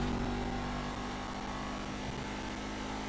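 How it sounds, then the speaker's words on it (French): A steady, sustained car engine drone with a high whine on top, like a turbo spooling, holding constant throughout with no talk. A tuned car's engine and turbo in the video game GTA 5. "On entend vraiment bien le bruit du turbo."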